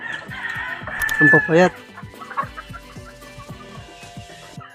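Chicks and hens clucking inside a small enclosure, with a rooster-like crow rising near the start, then scattered pecking taps and soft peeps close by; a person speaks briefly in the middle.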